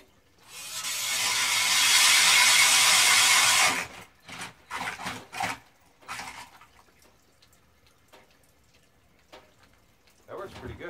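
A Craftsman cordless drill fitted with a clam auger plate bores through pond ice in one loud, steady, whining grind of about three seconds, followed by scraping and clunking ice chips and someone talking.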